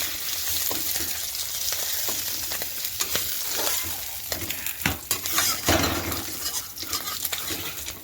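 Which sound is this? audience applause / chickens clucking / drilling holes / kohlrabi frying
kohlrabi frying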